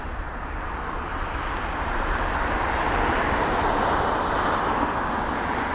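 A Japan Airlines airliner at London Heathrow passes with a broad, steady jet roar that swells slightly and holds, heard from a distance with no talk over it.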